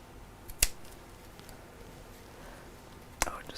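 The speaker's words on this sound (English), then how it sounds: "let's just cut that down a little bit" Scissors cutting fabric piping, two sharp snips separated by a quiet pause, close and faint against low background noise.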